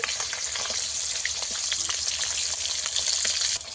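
Shol fish frying in oil in a pan, a close continuous crackling sizzle with scattered sharp pops and spits, steady until it drops off abruptly near the end.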